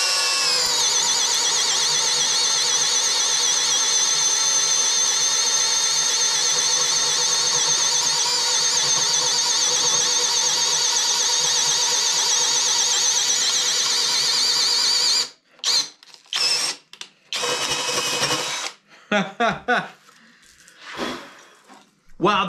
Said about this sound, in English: This is with a standard paddle bit. Let's see how well we do. We're going to drill it right here.